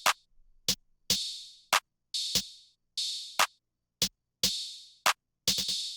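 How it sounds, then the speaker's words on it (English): A programmed electronic drum pattern plays alone with sharp snare hits, open hi-hats hissing out after each stroke and layered claps, ending in a quick cluster of rapid hits. "the last two things I had was a snare and an open hat, which I'll play with the clap"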